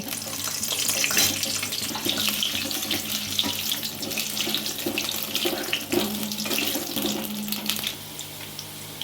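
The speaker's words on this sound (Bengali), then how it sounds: "এবারে আমি আলুগুলো ছেড়ে দিচ্ছি।" Potatoes fry in hot oil in a wok for a Bengali-style chicken kasha, giving a loud, steady sizzling hiss that runs unbroken for the whole stretch, with no talking.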